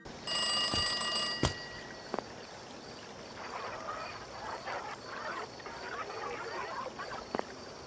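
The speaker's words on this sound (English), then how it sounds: "The Inkblot Art Academy has a telephone mysteriously ringing." A telephone rings at Inkblot Art Academy in the Splatoon video game, a bright bell-like ring followed by faint honking, chattering oddities and scattered clicks in a quiet space.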